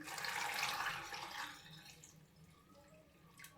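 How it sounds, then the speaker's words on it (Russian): Pickling brine pours over tomatoes in jars as a steady, close splashing stream that fades to a quieter trickle and drips, with no talk. "заливаем наш рассол"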